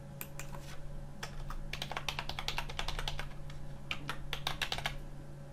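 Someone types a username and password on a computer keyboard: quick bursts of crisp key clicks with short pauses between runs, set against a faint steady electrical hum, with no voices.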